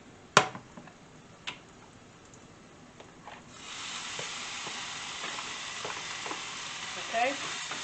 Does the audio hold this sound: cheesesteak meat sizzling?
yes